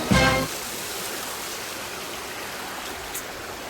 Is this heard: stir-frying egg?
no